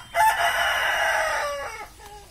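A rooster gives one long, loud crow close by, ringing out alone with no talk over it.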